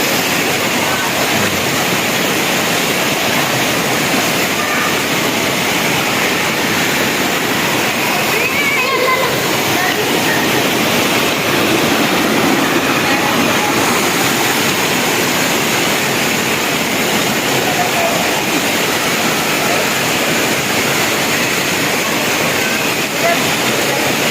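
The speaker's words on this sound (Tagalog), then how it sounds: "ito po ang Tanawan Falls" Tanawan Falls roars as a steady, loud, broadband rush of falling water throughout, with a voice speaking over it at times.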